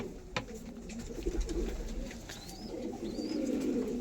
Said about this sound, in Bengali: অনেক সুন্দর সুন্দর পায়রা আছে।